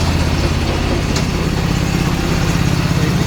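The auxiliary engine of a wildfire suppression vehicle runs steadily, a loud, close, continuous droning hum with a constant low throb and no talk.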